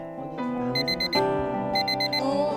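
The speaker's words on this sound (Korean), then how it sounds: "알람이 울리네? 언니 약 먹을 시간인가 보다." Alarm clock beeping as a medication reminder, bursts of rapid high electronic beeps in two groups over a steady tonal background, fairly loud and close.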